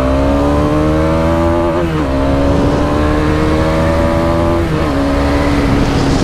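Bajaj Dominar 400 motorcycle exhaust while riding, a steady loud engine drone with rising and falling pitch as the rider shifts and eases the throttle, continuous throughout with no talk.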